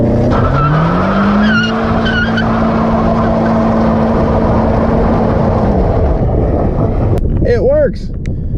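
A 2017 Honda Civic EX-T attempts a weak burnout with the e-brake held, its engine droning loud and steady under wind buffeting before a brief tire squeal near the end, with people talking.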